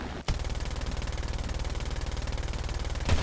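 Rapid machine-gun bursts from a BF-109 G-2 Trop fighter in the War Thunder combat game, a steady loud stuttering stream of shots that runs continuously for about three seconds with no talk.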